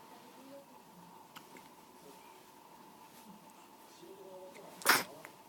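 A young child sneezes once, a sharp burst near the end, after a stretch of quiet room noise with faint murmuring.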